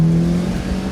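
A Lotus Elise, a light mid-engine sports car, drones loudly with a steady low engine tone that dips briefly and then holds, heard from inside the car.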